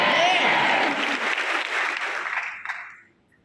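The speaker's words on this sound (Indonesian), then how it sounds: "Berikan tepuk tangan." Church congregation applauding at an evangelistic revival service on Batam island, a loud, dense burst of clapping that holds steady for a few seconds, then thins and fades out.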